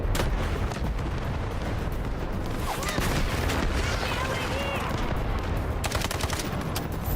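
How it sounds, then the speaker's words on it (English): A video game artillery barrage rumbles continuously with dense booms and blasts throughout, loud and sustained, while voices talk over the din. "Artillery barrage incoming."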